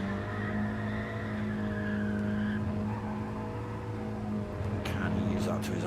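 Mini Cooper race cars circling a track in a Mini Cooper Cup race, one car sliding sideways through a corner, engines droning steadily with a brief scrabble of tyres, while a commentator talks over the top.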